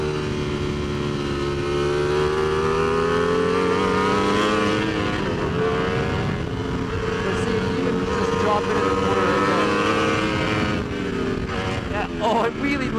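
A 2019 Ducati V4S motorcycle engine pulls hard through the gears, a loud continuous roar with rising and falling pitch as it revs up, shifts and climbs again, under wind noise, with a voice talking over it.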